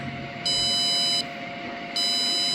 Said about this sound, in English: And it will beep like this until the file is completely installed.